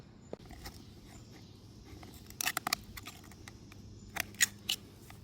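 Blades cut through the rubber CV axle boot on a Volvo XC90 in two short bursts of crisp snips, close and clear over a quiet background, with no talking.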